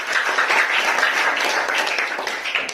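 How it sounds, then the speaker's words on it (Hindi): Classroom students clapping for a classmate after a biology answer, a short burst of lively, fairly loud applause from a small group that tapers slightly toward the end. "सब इसके लिए तालियां बजा दो भाई सब"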